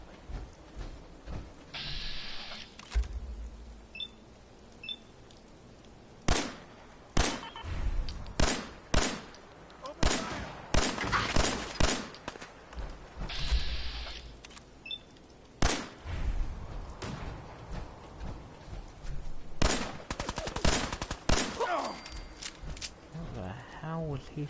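Video game gunfire in Fallout 4 rings out as repeated sharp bursts and volleys of shots, some in rapid clusters, loud and close, with voices talking in between.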